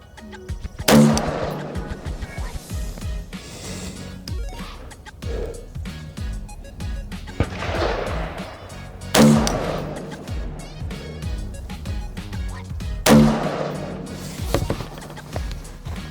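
Three sharp rifle shots ring out several seconds apart, fired at a target through an LPVO scope with an integrated laser, each a loud crack with a trailing echo over low outdoor background noise.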